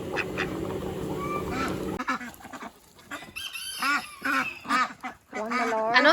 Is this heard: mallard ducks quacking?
yes